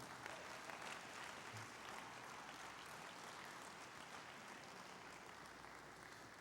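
A church congregation applauds during a morning service, producing a continuous, even patter of many hands clapping that sounds quiet and distant throughout.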